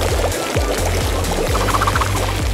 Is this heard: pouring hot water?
yes